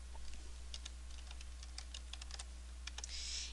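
Keystrokes on a computer keyboard, typing into a Find and Replace dialog in Access 2007, come as short irregular clicks and brief bursts, close and fairly quiet over a steady low hum, with no one talking.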